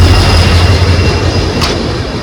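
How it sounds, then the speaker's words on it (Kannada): A WDG 4 diesel locomotive, number 12053, rolls past on a curving line near Dudhsagar, a loud, steady low rumble and roar close by, with faint rail clatter and no voices. "ಮತ್ತೊಂದು ಡೀಸೆಲ್ ಲೊಕೊಮೋಟಿವ್ ನೋಡ್ರಿ, ಇದು WDG 4-12053"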